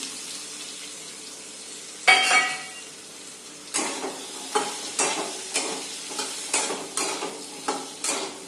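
Finely chopped potato frying in a hot pan with red chilli powder, a steady sizzle broken by a loud scrape at about two seconds, then a regular series of stirring scrapes roughly every half second to second.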